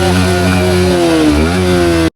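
An ordinary, non-superbike motorcycle engine runs close and loud with a buzzing, harmonic drone, dips briefly as the revs shift, then cuts off abruptly at the end.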